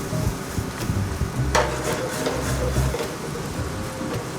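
Braised short rib sizzles in a pan as wine cooks into it, a steady crackling fry with stirring and scraping noises and a bright clatter partway through.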